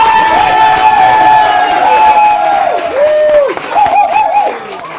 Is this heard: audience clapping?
yes